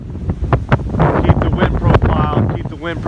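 High winds batter the microphone at a bee ranch, a loud, continuous rumbling roar with gusty surges throughout, and faint voices beneath.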